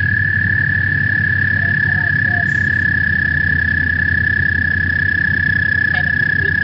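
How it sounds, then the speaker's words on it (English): A played recording of Minnesota frog and toad calls, a loud continuous high-pitched trill running throughout, with a low rumbling background and occasional faint chirps. "I'll play the frog sounds just because I always think it's fun to hear what these different kinds of frogs sound like"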